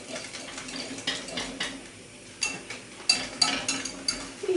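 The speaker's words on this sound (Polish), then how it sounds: "do mleka dodaję masło i cukier i rozprowadzam budyń." Stirring pudding mix into milk with butter and sugar in a pot, a spoon scraping and clinking against the pan in irregular strokes, close and fairly quiet.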